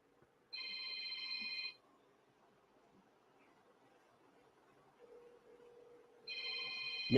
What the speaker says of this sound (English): Me hear the phone, people. Hold on, I'm gonna find the phone.